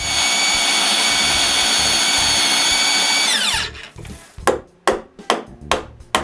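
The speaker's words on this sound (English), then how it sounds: "I just have to drill the mortises holes" A power drill bores mortise holes into a wooden sawhorse beam, a loud steady whine for about three and a half seconds that winds down, followed by several sharp knocks and scrapes of wood.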